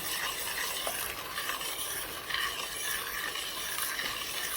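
A spoon stirs boiling sugar syrup with lemon juice for candy apples, a soft continuous bubbling hiss with faint scraping, steady and close.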